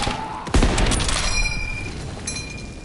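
An incendiary shotgun shell fires in Call of Duty: WWII, a single loud blast followed by a crackling, hissing burn that fades over a couple of seconds.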